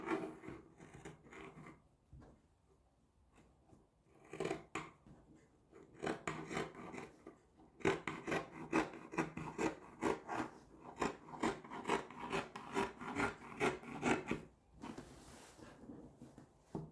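Scissors cut through Ankara fabric trimmed with lace, giving repeated crisp snips and a rasping shear in steady bursts with brief pauses, close and fairly loud.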